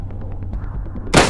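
A single sharp sniper rifle shot cracks out near the end in Garry's Mod, after a stretch of faint clicking and low rumble.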